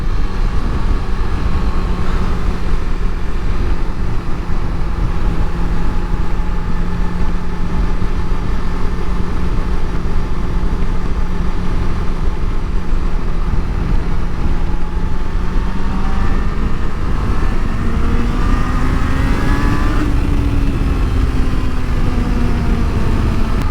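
Motorcycle engine running steadily and loud throughout, a continuous low drone with a pitch that rises slightly toward the end, no talking.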